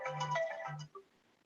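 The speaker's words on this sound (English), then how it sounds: "all my texts coming in now because my phone was dead" Notification tones on a phone as text messages arrive, a short melodic chime sequence with two low pulses, then a faint brief beep trailing off.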